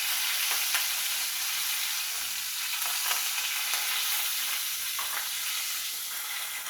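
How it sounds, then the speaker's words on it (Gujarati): Curry leaves dropped into hot oil for a Gujarati kadhi tempering give a steady, bright crackling sizzle that stays close and even throughout, with small popping spurts. "હવે કઢી પત્તા નાખી દઈએ એમાં."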